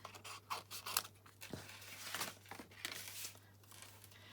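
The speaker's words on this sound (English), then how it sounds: "And then I'm going to trim them, cut them out. So I'm going to fussy cut these." Scissors snip around paper images for a birthday card in a run of quick, close cuts with soft rustling and crinkling of paper between them, against a faint steady hum.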